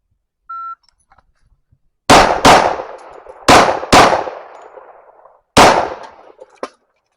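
A 1911 pistol fitted with a compensator fires five loud, sharp shots in close pairs and singles, each blast ringing out briefly, preceded by a short electronic beep.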